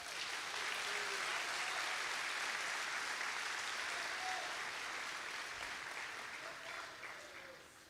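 A church congregation applauds steadily for several seconds, a dense even clatter of many hands that tapers slightly toward the end, with no speech over it.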